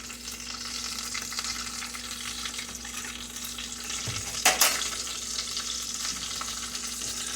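Breaded potato bombs fry in oil with a constant, even crackling sizzle, broken near the end by a brief clatter of a fork against the pot.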